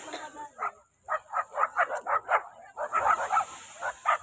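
Several dogs bark and yip outdoors in a rural farm setting, a rapid string of close, overlapping barks with a steady high hiss of insects or wind behind them.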